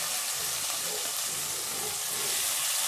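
Boal fish dropped into hot oil tempered with bay leaf and cumin, giving a steady, fairly loud frying hiss with soft crackles that runs without break and with no talking.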